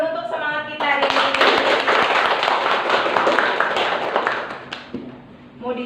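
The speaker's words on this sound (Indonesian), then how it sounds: "Kita tepuk tangan dulu untuk semangat kita hari ini." A class of students claps hands together in a dense burst of overlapping claps lasting several seconds, loud and close. A voice speaks briefly before and after the applause.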